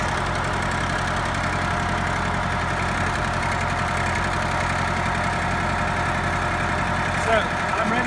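A US Jetting 4025 sewer jetter's engine idles in a steady, close, unbroken rumble that holds at an even level throughout, with no talk over it.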